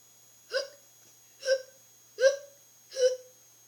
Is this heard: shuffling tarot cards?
no